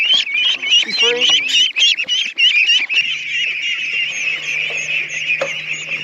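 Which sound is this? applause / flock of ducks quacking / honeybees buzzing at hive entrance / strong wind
flock of ducks quacking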